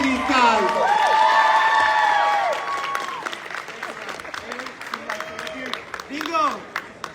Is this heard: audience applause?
yes